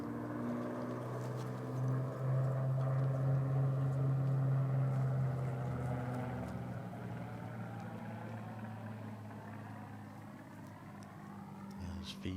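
A Spitfire aircraft engine passes overhead at a golf tournament, a throaty droning roar that swells and then slowly fades as it moves away, with its pitch gradually shifting.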